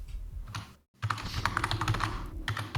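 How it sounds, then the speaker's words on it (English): Typing on a computer keyboard, a close, busy clatter of keystrokes with a short pause early on, then continuous rapid tapping. "I heard a bunch of typing"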